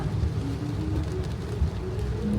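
Heavy tropical storm rain falling in Miami, a steady close wash of rain noise with low rumbling, continuous and fairly loud throughout.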